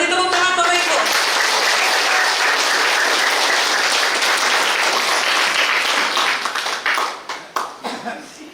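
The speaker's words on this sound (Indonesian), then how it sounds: "Kita beri tepuk tangan Bapak Ibu" Loud sustained applause from an audience at a ceremony for a newly elected Kei customary council chair in Sorong, continuous clapping that thins into scattered claps near the end.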